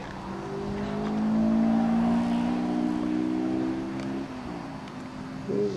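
A race car engine at Talladega drones steadily at high revs as the car laps the track, loud and sustained, its pitch holding then dropping slightly as it rounds the big turn on a sunny track day in 2001.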